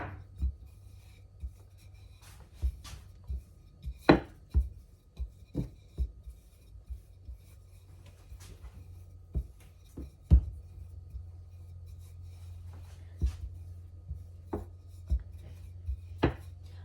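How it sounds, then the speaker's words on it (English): Biscuit dough being rolled out to about half-inch thickness with a rolling pin, giving soft rubbing rolls broken by scattered taps and knocks on the board over a steady low hum, close and fairly quiet, with no talking. "So now we're gonna roll it all the way out to the thickness you want your biscuits."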